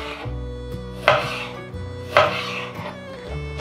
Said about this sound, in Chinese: 把番茄先切片